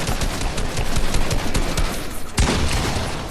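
Rapid automatic gunfire in the Fortnite video game, a dense loud burst of shots running throughout with a brief gap and then more firing.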